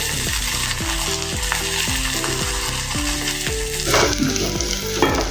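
Rice hits a hot pan for chana dal pulao and fries with a strong, continuous sizzle and stirring, while rhythmic background music plays over it.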